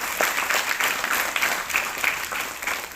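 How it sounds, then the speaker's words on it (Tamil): Students at a school environment day celebration clap for a classmate who just gave a speech, a steady, fairly loud wash of many hands filling the room without pause. "சிறப்பாக பேசிய மாணவிக்கு நன்றாக கைத்தட்டவும்."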